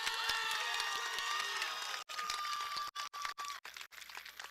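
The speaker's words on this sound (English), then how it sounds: "Can we give her a round of applause?" Graduation audience at a high school ceremony breaks into applause and cheering, a dense crowd sound that fades out in choppy bursts near the end.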